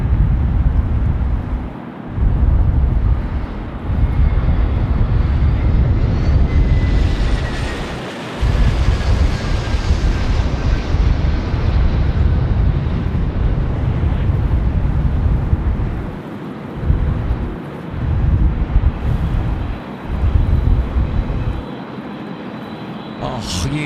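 A Qantas Boeing 717 jet landing at Sydney Airport on windy runway 25 gives a loud, sustained engine roar with a rising then falling whine, with people talking intermittently over it.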